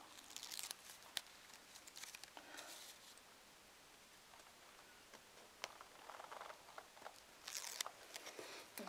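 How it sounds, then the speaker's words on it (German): Adhesive tape peeled off paper while crafting Christmas paper stars: a few short crinkly tearing rips near and quiet, separated by brief pauses and light handling rustles. "Klebeband ab."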